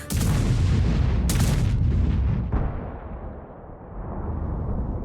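A single heavy 180 mm tank cannon blast from the ZT-70 in World of Tanks booms loudly, followed by a rumbling echo that decays and swells slightly, with no voices.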